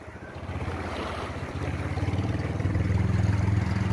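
Rough sea with a strong current slaps around a tuna fishing boat off Siargao, a loud, continuous wash and rumble of water mixed with wind buffeting the microphone and a rhythmic low engine throb.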